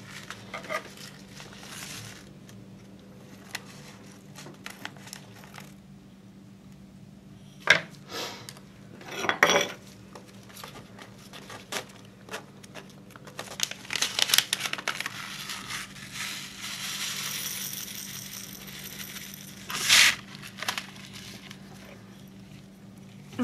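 A packet of Samander F1 pepper seeds is torn open and handled, giving quiet scattered crinkles and a few sharp rustling bursts over a low steady hum. The sounds are intermittent and close, with some louder crackles near the middle and end.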